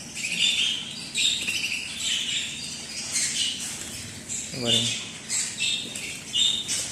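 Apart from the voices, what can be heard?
love bird squawking at pet market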